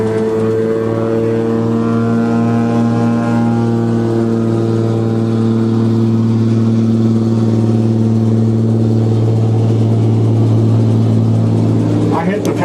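A wood-fired steamboat's steam engine gives a steady, low mechanical drone with a sustained tonal hum, continuous, close and even, with a brief clatter at the end.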